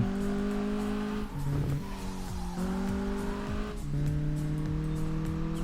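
A Honda Civic EK9 brakes lightly while being driven on a winding road, its engine droning steadily with gear and rev changes and faint tire noise throughout, heard from inside the car.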